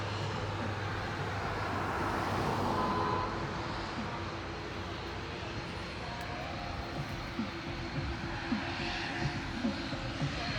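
A jet airplane takes off from a runway at Grantley Adams International Airport in Barbados, its broad engine roar loud at first and then fading gradually into the distance, with faint outdoor noise beneath.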